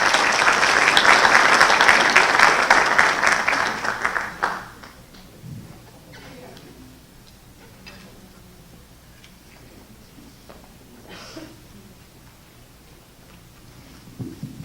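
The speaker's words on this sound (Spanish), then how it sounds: "Pido un fuerte aplauso para el doctor Rubén Pacheco Inclán." An audience at an international seminar on criminal procedure applauds loudly for about four seconds, a dense wash of clapping that fades abruptly into a quiet room with scattered small noises.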